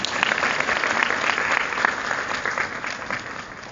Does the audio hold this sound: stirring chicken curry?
no